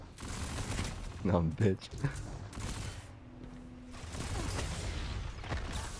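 Rapid video game gunfire rattles in short bursts, a loud cluster early on then softer shots, with a voice speaking over the sound.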